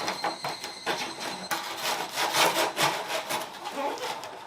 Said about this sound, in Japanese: だからこう、糸のこでここ、ネジを切断する。